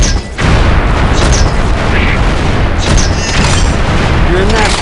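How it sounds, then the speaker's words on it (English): Incendiary grenades blasting in the video game Unreal 2: The Awakening, several loud booming bursts with crackling fire and debris across the stretch, close and intense, over a constant gameplay rumble. "you can bounce the grenades around some before they explode"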